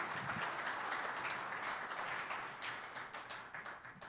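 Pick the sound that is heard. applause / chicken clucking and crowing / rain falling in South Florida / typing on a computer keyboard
applause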